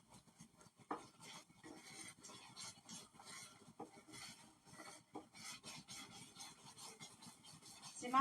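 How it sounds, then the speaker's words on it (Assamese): A spoon scrapes and stirs makhana kheer in a pot, a quiet, continuous scraping and rubbing against the bottom in irregular strokes, close and fairly soft. "যিমান পাৰে লৰাই থাকিব লাগিব, নহ'লে তলত লাগি যোৱাৰ চান্স থাকে"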